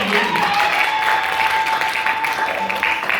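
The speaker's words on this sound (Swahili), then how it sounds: "Tumpige makofi tafadhali." Congregation applause during a church sermon: a steady, dense wash of clapping that holds for several seconds at an even level, with a faint sustained tone running beneath it.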